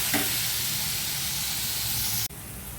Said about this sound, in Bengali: দই দিয়ে আমি নেড়ে নিচ্ছি।